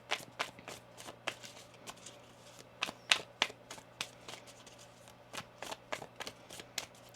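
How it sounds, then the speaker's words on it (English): Tarot cards are shuffled close up in a quiet room, giving a run of irregular crisp flicks and snaps with brief pauses between riffles. "One more shuffle now."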